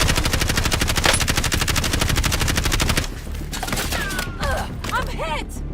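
Sustained rapid automatic gunfire in Call of Duty, a loud, evenly spaced stream of close shots lasting about three seconds, then quieter scattered fire beneath brief voice callouts.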